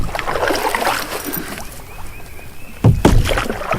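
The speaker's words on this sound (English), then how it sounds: "We got some waves coming in here." Waves lapping and slapping against the hull of a canoe on Laurel River Lake, steady close splashing and sloshing with a heavier hit near the end.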